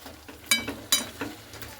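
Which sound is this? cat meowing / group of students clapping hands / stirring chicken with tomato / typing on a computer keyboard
stirring chicken with tomato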